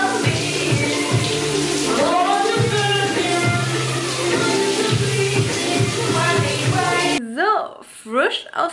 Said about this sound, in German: Dusche